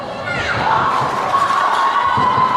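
School students cheering in the crowd at a secondary schools netball match at Auckland Netball Centre, loud sustained shouts and whoops from many young voices blending into a continuous roar.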